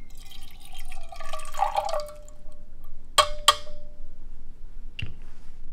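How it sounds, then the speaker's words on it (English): Fifty milliliters of water poured into a can during a food-burning calorie lab, a short trickling pour followed by a few sharp metallic taps and clinks, close and alone. "Taking our 50 milliliters of water and adding it to our can right there."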